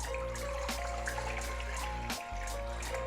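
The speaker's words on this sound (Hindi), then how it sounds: "यहाँ पे मैं ले लूँगी एक पैन और उसके अंदर 5 गिलास में पानी के डाल दूँगी।" Water poured from a glass into a cooking pan to make chicken yakhni broth, a continuous close splashing pour with a brief break partway through.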